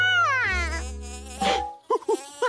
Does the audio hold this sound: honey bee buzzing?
yes